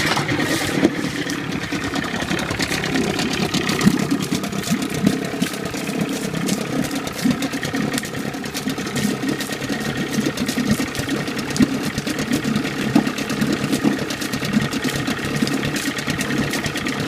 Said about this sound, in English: just showing the engine running from cold start and pumping water